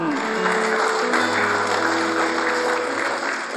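A church congregation at a worship service cheers and applauds for God, a dense steady wash of clapping and voices that fills the space throughout with no pauses.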